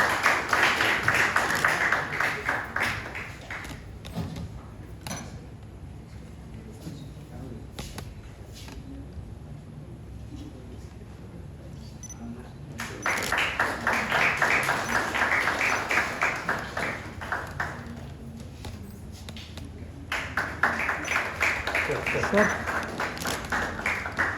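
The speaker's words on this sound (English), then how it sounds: "Big round of applause" An audience at a summit felicitation ceremony gives a round of applause, bursts of clapping at the start and again in the second half, with a quieter stretch between and some talk.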